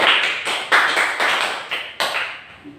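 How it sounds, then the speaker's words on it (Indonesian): A classroom of children claps for a pupil named Rina during a Catholic religion lesson, several uneven bursts of hand claps close by that repeat across a few seconds and trail off. "Oke, tepuk tangan untuk Rina."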